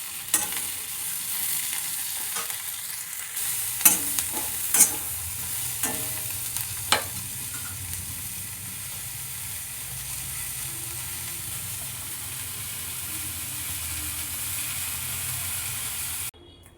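Chillies are roasted in a pan for a North Karnataka raw chilli chutney, giving a steady hiss of frying with a few sharp clacks and scrapes of stirring near the start that fade into a continuous sizzle.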